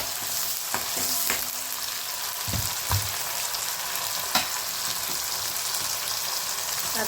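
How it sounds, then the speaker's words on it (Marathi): Masala spices sizzle steadily in a hot kadhai of oil while cooking a drumstick curry, a constant fine crackling hiss with a few soft stirring knocks, quiet and close with no talking. "मसाला टाकलेला आहे कढईमध्ये।"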